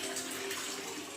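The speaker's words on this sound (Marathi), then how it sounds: "आणि इथे पाणी बघा आलेलं आहे" Water gushing from a pipe into a tank in a village home, a steady, loud, continuous rushing and splashing flow, close by, with no voices.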